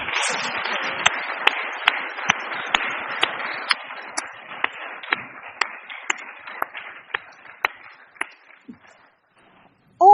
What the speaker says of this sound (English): I wanted to have a collective round of applause